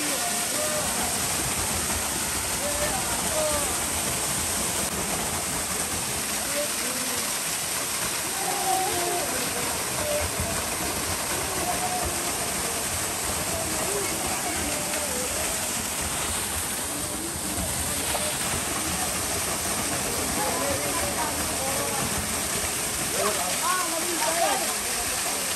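A waterfall near Kampung Tinambut gives a steady, close broadband rush of falling water that holds unbroken and fairly loud the whole way through, with no clear pauses.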